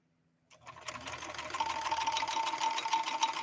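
A 1970s Kenmore 158.13520 sewing machine runs steadily through a 3-point zigzag stitch, its close, even mechanical whir starting abruptly and humming on alone with a fast rhythmic clatter.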